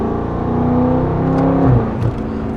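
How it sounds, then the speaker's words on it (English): A BMW M550i G30 with a full exhaust and free flow downpipes revs loud and close, its deep rumble rising and holding with a pitch sweep before settling, with no voices over it. "the car gives you way more of a dynamic sound characteristics compared to the factory exhaust"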